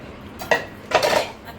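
Cooking pots and metal dishes are set down and stacked in a home kitchen after a chicken curry is made, giving two short, close clattering clanks separated by a brief pause.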